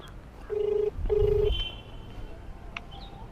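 Phone line tones while a call is being placed: two steady beeps in a row, followed by a higher tone and faint clicks, heard quietly over a low background hiss with no talk.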